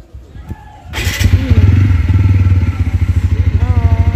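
A motorcycle engine fires up with a sharp burst, then settles into a loud, rapid, pulsing idle close by, its throb steady to the end while a voice speaks briefly.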